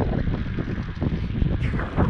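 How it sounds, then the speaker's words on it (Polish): Strong, cold north wind buffeting the microphone during a bicycle ride, a continuous loud rumbling roar with gusty fluctuations. "Jest zimny wiatr z północy."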